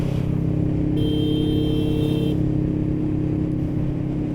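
A car moving through heavy traffic, heard as a steady low engine and road rumble from inside, with a brief higher whine partway through.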